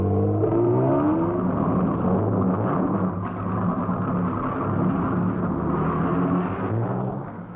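Racing cars at the 1953 Mille Miglia, a Ferrari followed closely by an Aston Martin, roaring past with a loud sustained engine drone that swells and fades slightly.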